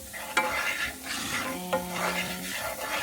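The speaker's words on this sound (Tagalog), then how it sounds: "And fry the garlic." Garlic sizzling and spitting in a hot pan, a steady close fry with a couple of sharp clinks of a spatula against the pan and brief stirring scrapes.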